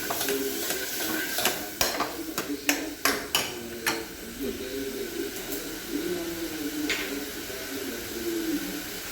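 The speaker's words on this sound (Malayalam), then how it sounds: "നന്നായിട്ട് നമ്മൾ ഇളക്കി കൊടുക്കണം" A spoon scraping and stirring through a pan while roasting wheat, sharp rhythmic clicks and scrapes near and fairly quiet over a low background, with a faint sizzle underneath.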